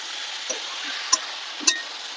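Meat and fried potatoes sautéing in a pan give a steady soft sizzle with two or three brief spoon scrapes and clinks, close and alone.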